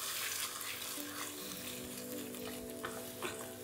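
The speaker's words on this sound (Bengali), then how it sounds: "মিডিয়াম ফ্লেমে এটাকে আমি কীভাবে কষিয়ে নিচ্ছি" Mustard and tomato paste for a tilapia curry sizzles steadily over a medium flame while being stirred, a constant close frying hiss with faint tonal hum underneath.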